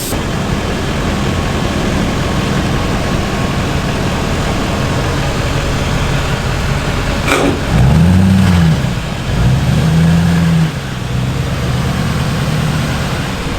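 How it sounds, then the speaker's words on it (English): A heavy truck engine drones steadily, then revs up as the vehicle climbs under its own power, rising and falling in pitch. "the truck's going up on its own power"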